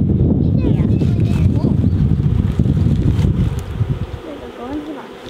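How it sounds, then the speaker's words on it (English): A honeybee swarm held in a box buzzes loudly and close, a dense drone that fades after a few seconds, with people talking over it outdoors. "all the bees are in there"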